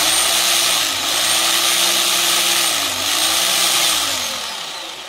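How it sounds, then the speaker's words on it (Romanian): A ProCraft BH1600 rotary hammer runs in rotary impact mode, suited to drilling concrete, brick or stone: a loud, continuous buzzing hammer roar with a steady whining drone that dips slightly twice before easing off at the end. "Modul 1, modul rotire cu impact, excelent pentru foraj în beton,"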